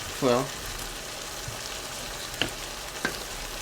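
Fish cake with green onion is stir-fried in a pan, a steady close sizzle with a few utensil clicks and a brief tonal sound at the start.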